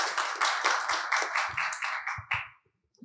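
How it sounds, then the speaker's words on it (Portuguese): A small studio audience claps for the guests in a quick, rhythmic run of sharp claps that holds briefly and then stops abruptly, leaving near silence with a faint tap at the end. "Mais uma vez, a salva de palmas,"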